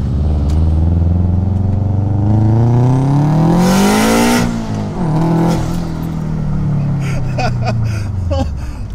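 A 2006 Subaru WRX STI fitted with an external wastegate accelerates hard, its loud engine climbing in pitch through a rev sweep, peaking, then dropping with a shift and pulling again, with a sharp burst near the top and crackles near the end.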